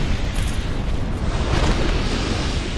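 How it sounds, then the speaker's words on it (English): Magic explosion in the video game Dark Souls 2 roars as a dense, sustained rumbling blast that fills the whole moment without any voices. "Cool guys, don't look at magical explosions."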